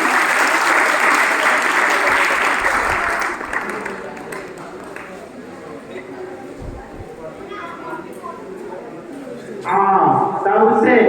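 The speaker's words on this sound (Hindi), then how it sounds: "ताली बजाइए।" An audience at a student felicitation ceremony at a coaching centre in Chanpat applauds in a dense, loud wash of clapping that fades to a lighter patter, then swells again near the end.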